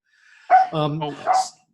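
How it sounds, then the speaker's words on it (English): A dog on a farm beside a bee apiary gives a short, whiny bark-yelp, a single close vocal burst of about a second, alone with no talk. "Okay, with the dog barking."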